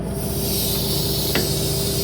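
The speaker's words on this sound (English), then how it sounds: "Let down this hydraulic cylinder right here." Hydraulic cylinder on a trailer being let down, giving a steady close hiss of escaping pressure with a brief sharper burst partway through.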